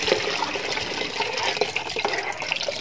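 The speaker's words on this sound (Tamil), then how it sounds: "தண்ணிக்கு பதிலாக மீதி இருக்கிற அந்த புளி கரைசல் கொஞ்சம் ஊற்றிக்கலாம்." Tamarind extract is poured into a simmering Hogenakkal-style katla fish curry, a continuous close splashing and trickling of liquid with small bubbling pops, moderately loud and alone without talk.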